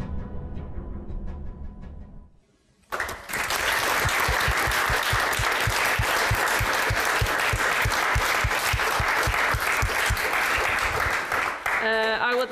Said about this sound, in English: I would like to have one more big applause.